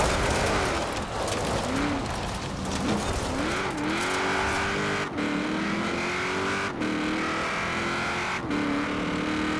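Studebaker Dream Roadster in the Forza Horizon 4 racing game, its engine droning steadily and rising and falling in pitch through gear changes, loud and continuous with tire and road noise underneath.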